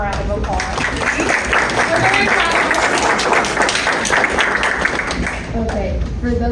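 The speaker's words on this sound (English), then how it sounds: "if y'all will give her a round of applause, please." Audience applause fills a junior high school science fair kickoff event, steady and loud for several seconds with some voices mixed into the crowd noise.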